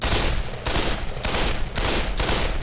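Rapid automatic gunfire from a first-person shooter game, loud bursts of shots with booming bullet impacts repeating in quick volleys, close and punchy with deep low-end rumble.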